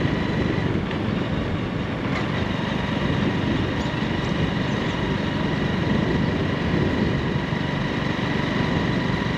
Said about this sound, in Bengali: ট্রেনটা তো চলে গেল